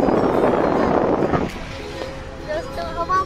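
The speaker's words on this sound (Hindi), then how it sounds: "हवा बहुत जोर से लग रही है" Strong wind buffets the microphone with a loud, continuous low roar while someone talks over it outdoors on a trip to Banderdewa, Arunachal Pradesh; the gusting eases slightly partway through.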